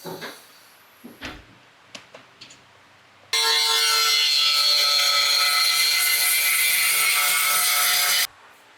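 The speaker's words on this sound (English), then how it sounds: "This one we need to sand down" Rusty car brake part from a 280ZX being sanded: a few scattered knocks and scrapes, then a loud, continuous, harsh power-sanding rasp lasting about five seconds before stopping abruptly.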